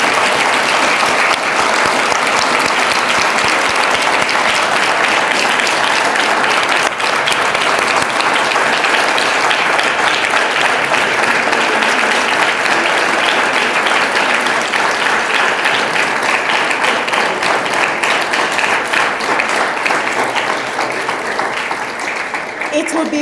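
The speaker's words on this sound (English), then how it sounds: "Yes, you may applaud." Sustained, loud applause from an audience at an awards ceremony, dense clapping filling the hall without a break for over twenty seconds before easing slightly at the end.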